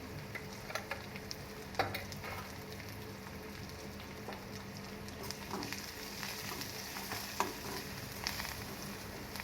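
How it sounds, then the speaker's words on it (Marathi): Coarse green chilli and garlic paste with red chilli powder and turmeric sautés in a pan for sambar, a soft continuous sizzle and crackle with a few sharper pops and stirring, fairly quiet with no talk. "त्याला चांगलं परतून घेते, याचा स्वाद चांगला येतो भाजीला"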